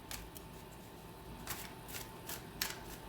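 A deck of cards is shuffled by hand in several quick riffling bursts, close and fairly quiet, with no talking.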